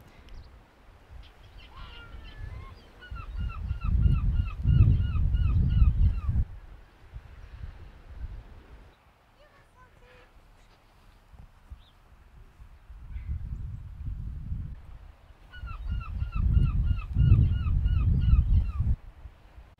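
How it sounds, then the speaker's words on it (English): Seagulls call from a cliff top in two bouts of repeated, laughing cries, distant over a heavy rumble of wind. "We're lucky to have seagulls as neighbours"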